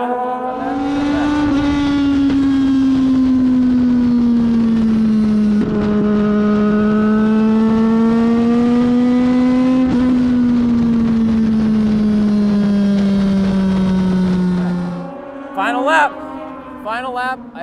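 A borrowed race car runs its final lap on a track, the engine holding a loud, steady drone with its pitch rising and falling through the gears, then easing off near the end.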